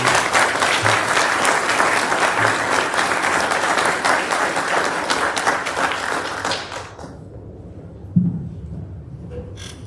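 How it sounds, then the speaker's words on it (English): An audience at a middle school Veterans Day ceremony breaks into loud, sustained applause indoors, which fades out after about seven seconds, followed by a few stray thumps in the quiet room. "a nice round of applause"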